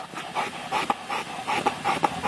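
A Labrador dog in an exercise-induced collapse episode pants hard with laboured, rasping breaths, a fast steady rhythm of breathy bursts close up and alone.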